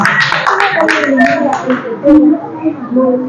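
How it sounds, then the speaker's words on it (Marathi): A primary school classroom breaks into loud applause, many hands clapping in a dense burst that tapers off, with voices mixed in. "जोरात टाळ्या वाजवायच्या आहेत"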